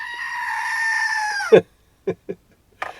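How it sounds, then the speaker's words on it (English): A goat gives one long, loud, quavering bleat up close, followed by a few short sharp sounds and brief silences. "Don't forget the goat, the goat, the goat, the goat."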